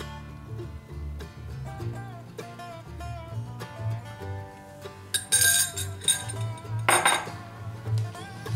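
A utensil mixes eggs into sweet bread batter in a bowl, making repeated light clinks and scrapes against the bowl over background music.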